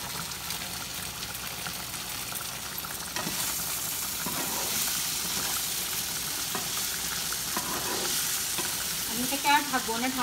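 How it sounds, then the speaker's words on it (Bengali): Salmon pieces frying with potatoes in a pan for a fish curry, a continuous dense sizzle and spatter close up, with a few clinks and scrapes near the end and no voices. "তো এটাকে আমি এইভাবেই রেখে আরেকটু ভাজা ভাজা করবো আলুর সাথে"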